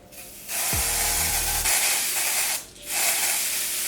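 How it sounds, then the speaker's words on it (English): Two long hissing bursts from an aerosol can of tinted lace spray, separated by a brief pause, with a small rattle at the start, sprayed onto a wig cap. "I'm gonna go ahead and spray it on my wig cap"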